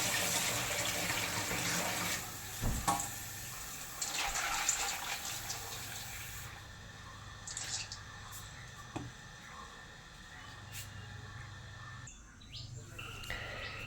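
Running water from a tap splashes steadily as food is washed in a village kitchen, with birds chirping faintly in the background and some speech between.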